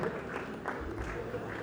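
A gala audience applauds in a hall, a steady, fairly faint wash of clapping that continues without a break.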